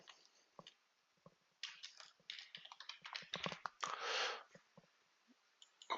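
A name is typed on a computer keyboard in quiet, irregular bursts of close, soft key clicks that grow denser midway, ending with a brief rustle.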